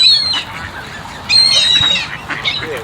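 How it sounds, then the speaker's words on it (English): Geese being fed honk in two loud, close bursts, one at the start and a longer one partway through, with softer calls and outdoor noise between. "There you go. Geese."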